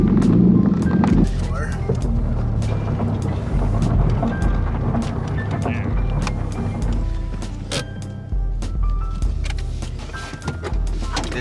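An imported JDM car's engine idles and revs before being shut off, a low continuous rumble with scattered clicks and knocks as people talk nearby.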